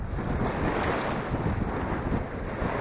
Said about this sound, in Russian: Ох ты, какая волна-то, а!